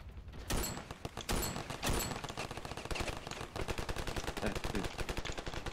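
Gunfire in the video game Ravenfield: a few heavy shots open, then rapid automatic bursts crackle almost nonstop, dense and close, with no talking.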